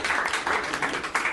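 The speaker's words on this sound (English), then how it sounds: "That was a tentative welcome to the stage from the audience." An audience gives a brief, thin round of applause as a player is welcomed to the stage at a live comedy show, with scattered claps rising and falling for about a second.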